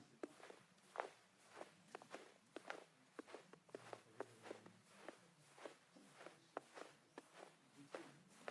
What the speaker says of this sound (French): On va ajouter des bruits de pas dans la neige.